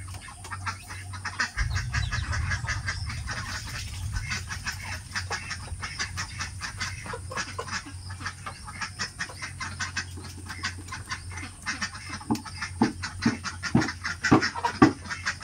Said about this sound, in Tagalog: Maingay ang mga kaitikan.